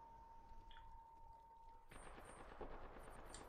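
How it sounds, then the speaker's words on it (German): Gunfire in the video game Apex Legends, a quiet hum giving way to a burst of rapid, distant-sounding shots that rattle on continuously under a faint tonal whine. "Oh, da hinten sind jetzt Schüsse."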